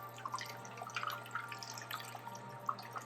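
Water drains from an aquarium GFO reactor during a rinse, producing a steady trickle with scattered close drips and splashes over a low background hum.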